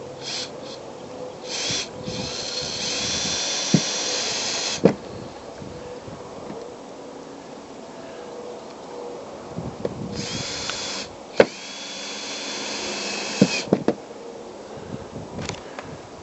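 A power drill drives screws into an RV roof during leak repair, with two buzzing whirring runs of a few seconds each, separated by quieter stretches holding a few sharp clicks and knocks.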